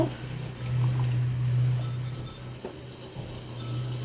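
Light soy sauce pours steadily into a pot of boiling water for a few seconds, a soft splashing trickle over a low background hum.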